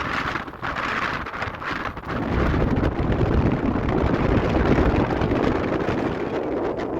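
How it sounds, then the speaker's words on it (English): Strong, steady wind at an exposed rock summit, roaring loud and continuous across the microphone with gusty surges and low buffeting. "the wind becomes very steady and very strong"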